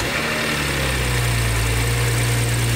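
A BMW B58 engine fitted with a carbon fiber intake turns over, catches, and settles into a steady, loud idle with a deep rumbling drone.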